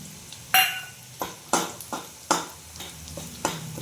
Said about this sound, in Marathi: आता याच्यामध्ये जिरं वगैरे टाकून घ्यायचं